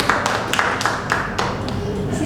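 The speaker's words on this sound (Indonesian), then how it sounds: "Tepuk tangan dulu buat Haikal." A classroom of students clapping for a classmate after he solves a math problem, a short burst of scattered hand claps with distinct individual slaps over a busy room background.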